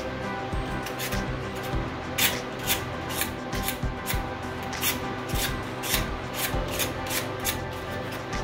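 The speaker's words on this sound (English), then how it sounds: "use a razor blade to scrape that off and make it smooth as well." A razor blade scrapes old gasket material off the water pump mounting surface of a C3 Corvette's Chevy 350 engine, in short rhythmic scratching strokes repeated roughly every half second, close and moderately loud.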